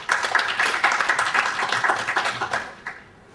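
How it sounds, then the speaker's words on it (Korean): Audience at a forum on high-speed rail claps in welcome of a speaker, a close, brisk patter of individual hand claps that holds steady, then tapers off near the end. "큰 박수로 환영해 주시기 바랍니다."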